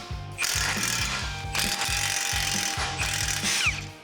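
A hand ratchet clicks in rapid, steady strokes, loosening the hub assembly bolts on a Nissan Frontier's steering knuckle. The close metallic pawl ticking repeats in regular bursts over a faint background hum, with no talking.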